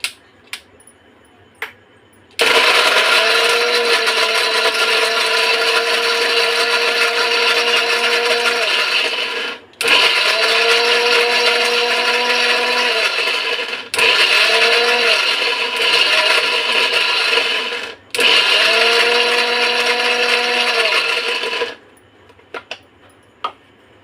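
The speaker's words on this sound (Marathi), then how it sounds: "आपण मिक्सरला खोबरं फिरवून घेऊया थोडं थोडं." A kitchen mixer grinder grinds coconut in several loud bursts of whining motor and churning, each run several seconds long and separated by brief pauses, with no talking.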